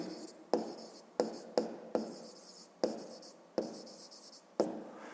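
Pen writing answers to a fifth-grade math exercise, heard as repeated short scratchy strokes, each starting sharply and trailing off, in a steady rhythm close to the microphone with no speech.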